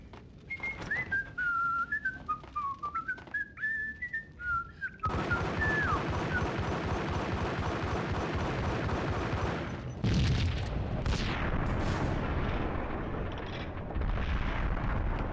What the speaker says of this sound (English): The whole building was rigged with explosives.